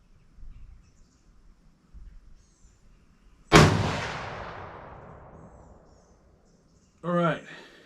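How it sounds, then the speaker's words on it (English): A single loud 6.5 Creedmoor rifle shot fired at 50 yards while sighting in a new scope, with a sharp crack and a long fading echo outdoors. Quiet surroundings come before it, and a brief voice is heard afterward. "And we'll shoot one more time at 50."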